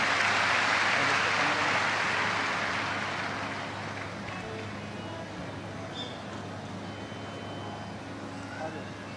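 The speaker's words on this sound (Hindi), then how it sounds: "जोरदार ताली।" A large audience at a live Shiv Mahapuran katha bursts into loud, dense applause that starts strong and gradually thins out over several seconds.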